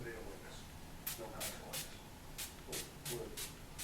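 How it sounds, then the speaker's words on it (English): Urban Decay Oil Control Spray misted onto a face in about eight quick close hissing spritzes, spaced irregularly, over a faint background. "I'm going to go in with my Urban Decay Oil Control Spray, and I'm going to spray that before I go in with my foundation"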